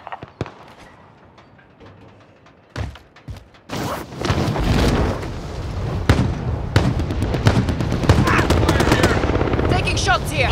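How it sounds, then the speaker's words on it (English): Rapid bursts of automatic gunfire crackle in a battle royale game, sparse pops first, then a dense sustained volley with overlapping shots, under occasional game voice callouts. "Taking shots here."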